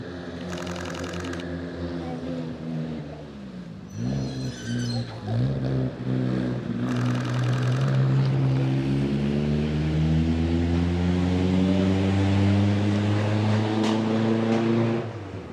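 Vintage car or trike engine at a hill climb, a throaty engine roar building as it passes close, with quick camera shutter bursts clattering over it.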